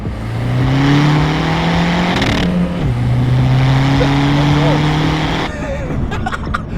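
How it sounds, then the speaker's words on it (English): A big-turbo VW Polo PD130 diesel pulls hard in second gear, its engine note rising loud and close through the run before a gear change; voices are faintly heard under the engine toward the end. "We'll do a little second gear pull for you guys to kind of show you what she's all about."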